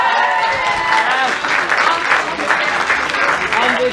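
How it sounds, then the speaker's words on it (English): Members of a youth club at a party applaud themselves, steady close clapping running throughout with crowd voices mixed in. "Give yourselves a round of applause."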